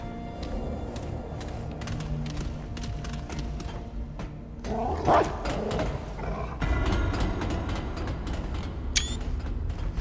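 A dog companion barks in the video game Remnant: From the Ashes, sharp short woofs rising over a continuous game soundtrack and ambient effects, with a louder stretch in the latter half.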